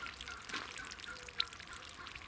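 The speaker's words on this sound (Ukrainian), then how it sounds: "Чуєте, як, як дзюрчить." Water trickling from a tee fitting into the soil of a vineyard, a faint, steady thin trickle with light broadband hiss and no talk.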